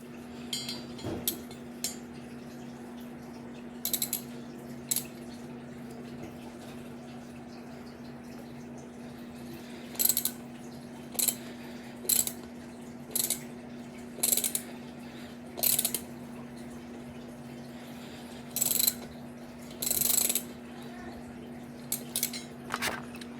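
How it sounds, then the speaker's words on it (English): Socket ratchet tightening a nut on a Honda D15b7 engine during a turbo kit install, heard as brief bursts of rapid clicking scattered across the clip, close and fairly quiet over a steady low hum. "with the little socket, we're going to tighten it to get the rest of that thread down there"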